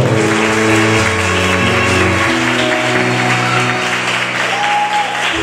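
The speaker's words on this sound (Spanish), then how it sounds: "recibir entonces a todas estas mano de muchachos con un fuerte aplauso." Loud applause from a crowd at a Mother's Day ceremony fills the space, with sustained tones running underneath the clapping throughout.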